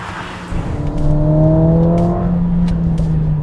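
Mercedes-AMG A45S 4Matic+ with its turbocharged four-cylinder engine driving hard, the interior engine note climbing steadily in pitch as it accelerates, with a loud sustained drone and faint clicks from inside the cabin.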